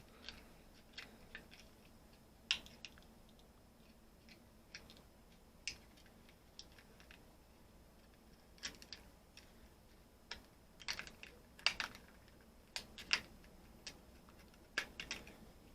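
Scissors snip through the hard plastic near the top of a bottle, trimming around the cap for a homemade fermentation vessel, with irregular sharp clicks and crunches, close and fairly quiet, without talk.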